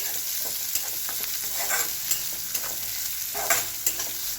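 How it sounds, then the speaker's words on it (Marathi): Finely chopped onion fries in a pan while a utensil stirs it, a steady close sizzle broken by soft scraping strokes every second or so, with no voices. "बारीक चिरलेला कांदा चांगलं मिक्स करून घेऊया।"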